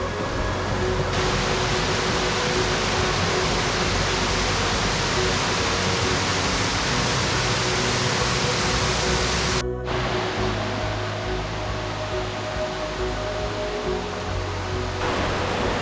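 A waterfall along the Ricketts Glen hiking trail pours in a dense, unbroken roar, loud and close, holding steady throughout with only a brief dip partway.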